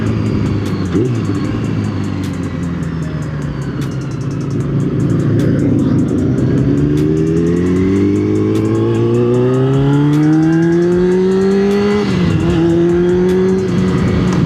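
A Yamaha R6 sport motorcycle being ridden, its engine note rising through sustained accelerations with a brief drop and climb again, loud and close over steady wind noise.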